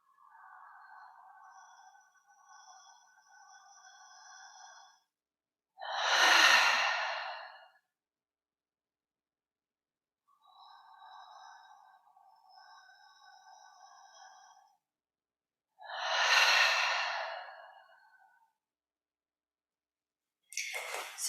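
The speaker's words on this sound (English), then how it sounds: "breathing in through the nose and out through the mouth" Slow breathwork exercise: two full cycles of soft, steady inhalation through the nose followed by a louder, airy exhalation through the mouth, close and alone with silent pauses between.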